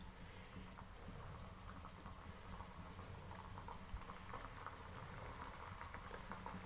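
Coconut pitha sizzles in hot refined oil in a wok, a steady, faint crackling bubble of frying that continues evenly with no voices.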